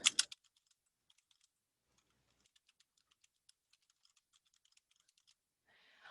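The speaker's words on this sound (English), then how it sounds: "you can type in your specific message" Light, faint keystrokes tap out a message on a computer keyboard, scattered irregularly across several seconds in a quiet room.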